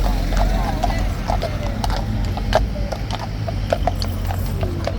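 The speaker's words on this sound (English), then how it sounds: "Good to see that the police horses are back out doing their rounds as usual." Hooves clip-clop at a steady walking pace on hard pavement, with a constant street rumble and voices in the background.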